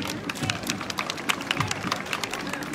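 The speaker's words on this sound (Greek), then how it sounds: "Θερμό χειροκρότημα για αυτά τα παιδάκια" Warm applause and scattered clapping from a crowd lining a school parade in Corfu as schoolchildren march past, a steady dense patter of hands with light cheering mixed in.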